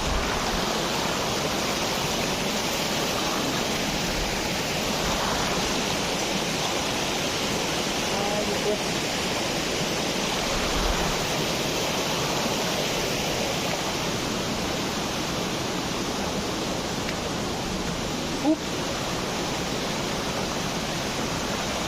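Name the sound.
river flowing in a forest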